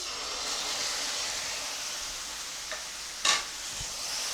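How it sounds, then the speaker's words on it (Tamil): Tomatoes sautéing in a pan with masala powder for a mushroom pepper masala give a steady, soft frying hiss, with one brief utensil clatter near the end. "மசாலா தூள் போட்டு வதக்கியாச்சு அடுத்ததாக நம்ம தக்காளி போட்டுடலாம்"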